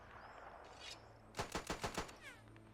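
Rapid burst of automatic gunfire from a soldier firing continuously into a wall in a WW1 video game: about six sharp, loud shots close together, set against a low battlefield rumble.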